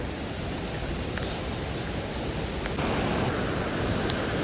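Mountain waterfall on the Manimahesh trek in rainy weather, a steady dense roar of rushing water filling the scene without pause.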